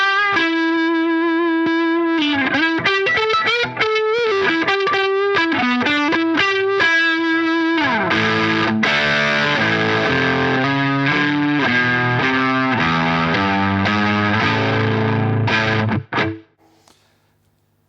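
An electric guitar through a Tsakalis Room 40 amplifier plays loud, distorted rock lines, first sustained single notes with bends, then denser crunchy chords, before ringing out and stopping.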